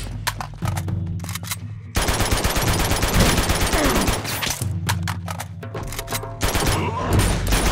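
Rapid automatic gunfire and sustained fusillades in Uncharted 2: Among Thieves, loud and close, with dense bursts broken by short pauses and several overlapping weapons.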